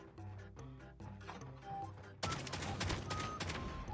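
Shotgun gunfire from Call of Duty Mobile, heard as a louder burst of in-game shots and impacts after a quieter stretch of game music and effects, with no talk.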